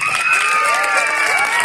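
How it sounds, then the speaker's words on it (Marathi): A school crowd claps and cheers for the winning quiz team at a Marathi school quiz competition, with steady applause and some shouting and whistling throughout. "जोरदार टाळ्या होऊन जाऊ द्या त्यांच्यासाठी."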